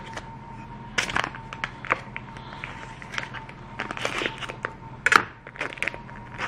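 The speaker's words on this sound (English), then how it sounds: "So I'm gonna open up this bag." A snack bag is handled and opened up close, giving sharp, irregular crinkling and crackling bursts with short quiet gaps between them.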